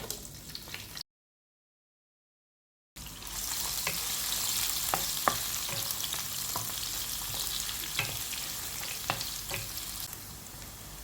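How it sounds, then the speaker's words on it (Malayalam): Coconut pieces and dried red chillies fry in hot oil for a Kerala-style prawn roast, a steady close sizzle with small popping crackles and a short gap of silence near the start. "എണ്ണ ചൂടായി വരുമ്പോൾ നമുക്ക് ആദ്യം തന്നെ ആ തേങ്ങാക്കൊത്തുണ്ടല്ലോ അത് ആദ്യം അങ്ങോട്ട് ഇട്ട് കൊടുക്കാം"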